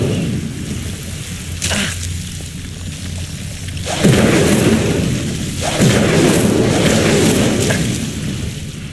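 Fire spell cast in Hogwarts Legacy, a loud whooshing roar that bursts at about four seconds and again near six, rising over a constant rumbling ambience with no talk.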